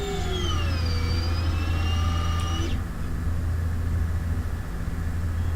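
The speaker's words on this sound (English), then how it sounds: "We have takeoff." A light aircraft engine drones loud and steady at high power during takeoff and climb, with a continuous low hum and a rising whine that cuts off partway through.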